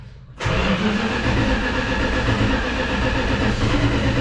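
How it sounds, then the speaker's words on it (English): A 1965 Plymouth Fury wagon fitted with Sniper 2 EFI cranks over abruptly after a brief quiet moment, its starter churning loudly and steadily as the engine turns without settling into an idle. "let's go ahead and do a crank, see what happens"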